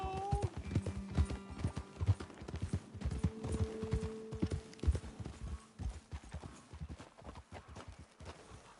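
Rapid clip-clop of horse hooves trotting in the video game Red Dead Redemption 2, steady and close, with a brief whinny near the start and a low musical drone underneath.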